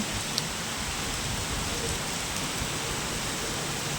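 Heavy rain pours steadily onto city streets in Dhaka, a dense, even hiss with no breaks.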